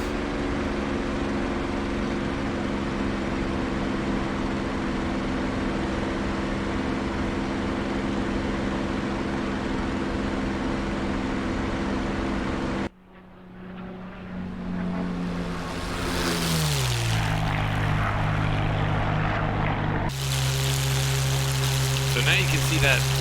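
Steady drone of a P-51 propeller aircraft engine in a flight simulator game at constant-speed prop, loud and continuous, then a sudden drop and a sweeping pitch change before the engine note settles again.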